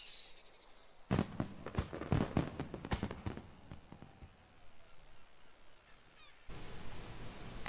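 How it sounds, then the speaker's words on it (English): A burst of crackling, popping fireworks from a World of Warcraft festival animation that rattle for a couple of seconds and then thin out into a soft hiss. The sound is fairly faint. "Let's take a look at the firework animation."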